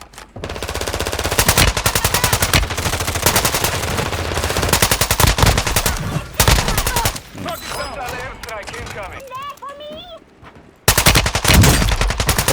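Long rapid bursts of TR-76 rifle fire in the game Call of Duty Warzone 2.0, loud and close, broken by short pauses and ending after a quieter stretch with another burst.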